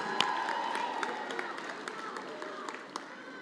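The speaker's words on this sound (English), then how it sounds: "One more round of applause for Jessica Mbangeni." An audience at the Gender Mainstreaming Awards 2023 ceremony applauds for a performer, a dense patter of many hands with a few sharper claps standing out, fairly loud and sustained.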